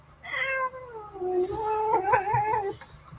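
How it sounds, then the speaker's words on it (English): A cat gives a long, drawn-out meow that bends in pitch, followed by a second wavering yowl, close and fairly loud over a low steady hum, with no talking. "sassy cat."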